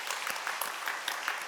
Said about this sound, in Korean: 박수 한번 하시겠습니다.